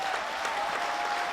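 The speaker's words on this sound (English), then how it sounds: "Let's just give them a round of applause." A conference audience in Dubai gives a round of applause, a brief, steady and dense burst of many hands clapping with no voices on top.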